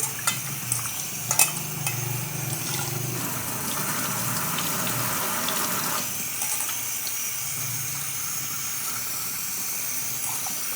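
Goat tripe being washed by hand in water for a boti gongura curry: a steady wet sloshing and swishing with a few sharp knocks and clinks early on, continuous and close, with no talking.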